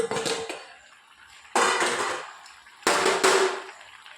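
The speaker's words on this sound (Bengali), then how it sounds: "আমি ঢাকাটা এবার খুলে দেখবো।" A cooking pot lid comes off a pot of fish curry on a gas flame, with two sharp metallic clanks about a second apart, each followed by a burst of loud hissing steam and bubbling.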